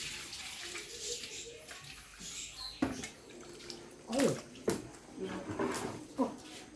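Water splashes and pours while the water in a guppy fish tank is changed, irregular sloshing bursts over steady running water, with faint talk in the background.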